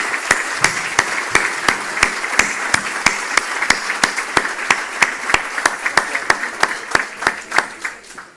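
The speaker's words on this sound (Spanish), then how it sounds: "vamos a testimoniar su presencia con un fuerte aplauso" A working-breakfast audience welcoming a senator claps in unison to a steady, brisk beat, with sharp rhythmic claps over a bed of looser applause that fades slightly toward the end.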